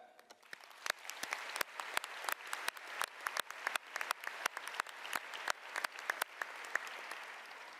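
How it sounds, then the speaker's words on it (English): Applause at a high school graduation ceremony in an auditorium, where a large audience claps steadily for the class of 2018 in a dense, sustained patter of many hands. "You deserve applause for that."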